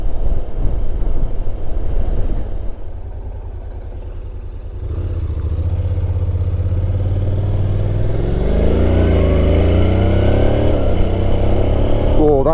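A 2025 Honda NC 750 DCT motorcycle engine at road speed, its loud steady drone dropping and then rising in pitch as the dual-clutch gearbox shifts smoothly, with the revs climbing again after each change.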